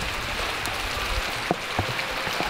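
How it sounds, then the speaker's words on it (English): Steady rain hisses outdoors in Samarkand, Uzbekistan, a dense even patter with a few louder drops landing close by. "And it's raining."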